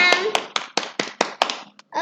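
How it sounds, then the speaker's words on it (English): Classroom students clapping together, a quick burst of about nine sharp claps in a steady rhythm, loud and close, with children's voices mixed in. "All of you clap for them."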